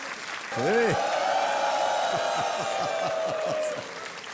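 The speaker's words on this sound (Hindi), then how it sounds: "और तालियां बजती रहनी चाहिए" Studio audience applause on the Indian TV quiz show KBC swells up after a short musical sting, steady broadband clapping held for several seconds with a rhythmic thumping beat and tones running underneath.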